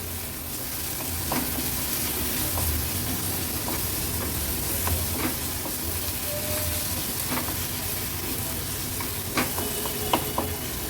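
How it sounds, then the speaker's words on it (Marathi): A spatula mashes cooked tomatoes in a pan: a steady simmering hiss runs throughout, with scattered scraping clicks and knocks from the utensil against the pan. "व्यवस्थित चालत्याने ह्याला स्मॅश करून घ्यायचे"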